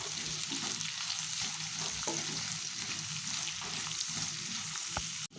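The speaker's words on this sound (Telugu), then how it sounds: "కొంచెం సాల్ట్ వేసి ఇలా కలుపుకోవాలి" Bitter gourd pieces tossed with salt in a hot frying pan give a constant close sizzle, with repeated stirring scrapes throughout and a sharp click at the very end.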